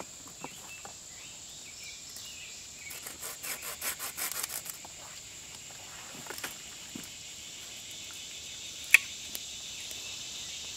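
Stick ends for a primitive fish trap are sawn off outdoors, a short run of quiet rhythmic rasping strokes and a few snaps, with crickets chirping steadily in the background.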